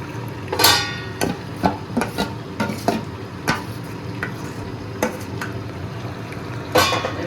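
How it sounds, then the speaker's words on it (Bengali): Chicken chaap is stirred with gravy in a pan: scattered scrapes and metallic clinks of a spoon against the pan over a soft frying sizzle, close and irregular, with no talking. "গ্রেভিটা দিয়ে নাড়াচাড়া করে চাপা দেবো"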